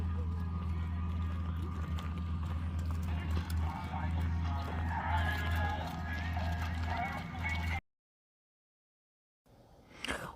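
Horses running in barrel racing at a small-town fair in Montana, steady hoofbeats and arena noise under a loudspeaker announcer's voice, cutting out abruptly before a brief return of crowd sound.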